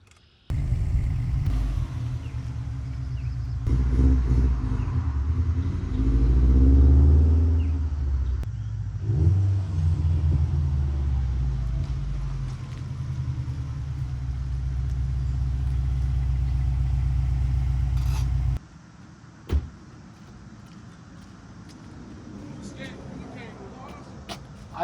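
A Subaru WRX STI out on a drive, its engine humming and rumbling steadily from inside the cabin, with a brief rise in revs, then quieter road noise near the end.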